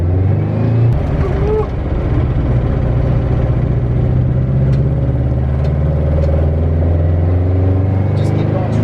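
A 1965 Volkswagen Beetle drives along with a loud, close engine drone from inside the car. There is a brief dip in the engine note as gears change, and voices talk over the engine.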